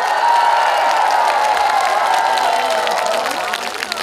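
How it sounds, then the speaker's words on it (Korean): An outdoor festival crowd at a trot singer's concert during the 2023 Imsil N Cheese Festival keeps up a dense, loud wash of applause and cheering that holds steady and tapers slightly at the end. "여러분 박수와 함성 보내주세요"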